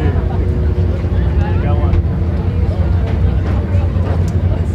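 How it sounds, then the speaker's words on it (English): IMCA Sport Mod race cars rumble steadily at a racetrack before heading out, a continuous low engine drone with wind buffeting the microphone and talk over the top. "IMCA Sport Mods getting ready to come out onto the racetrack."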